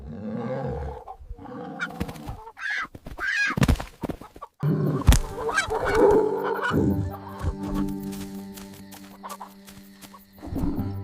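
Cartoon chickens cluck in a sound effect under a busy music bed. The clucks are mixed with roaring, animal-like cries and a sudden loud hit partway through, and the sounds vary in loudness throughout.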